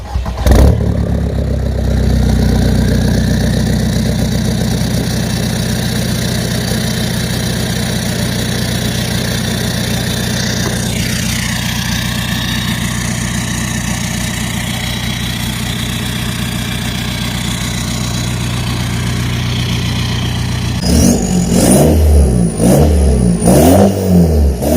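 A SEAT Ibiza 1.9 TDI diesel engine with a 2.5-inch stainless steel exhaust idles steadily and close by with a low rumble, then revs up in several quick bursts near the end.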